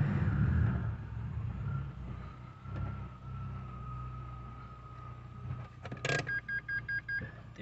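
A Renault Logan fitted with Sandero RS rear disc brakes idles while warming up, a steady low engine hum heard close, with a clunk and a series of short electronic beeps near the end.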